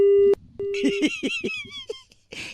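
A telephone line disconnecting mid-call, a steady tone cut short, then brief electronic beeps and a garbled voice-like burst, ending in a short noisy blip; close and clear, part of a phone prank.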